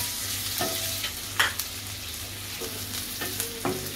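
Onions and curry leaves frying in oil while being stirred for a brinjal and potato bhaji, a steady close sizzle with repeated scraping clinks of the spoon against the pan.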